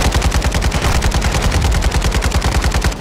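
Drive-by gunfire in the Modern Warfare 2 video game: loud, sustained rapid automatic fire with evenly spaced shots for several seconds, close and dominant with no talking.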